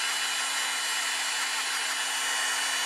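A craft heat tool drying a paper butterfly blows a steady, even whirring hum with a faint constant tone, unbroken and close throughout, with no talking.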